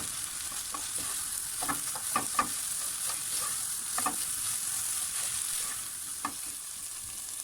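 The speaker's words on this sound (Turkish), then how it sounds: "Un ekledikten sonra tekrar karıştırıyorum. 1-2 dakika bu şekilde kavuruyorum." Flour roasts in a pan for mushroom soup while a spoon stirs it, giving a quiet, steady sizzle with soft scraping strokes at irregular intervals and no voices.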